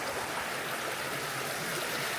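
A woodland stream babbles beneath a small bridge: a steady, close wash of rushing, trickling water with no breaks and no voices.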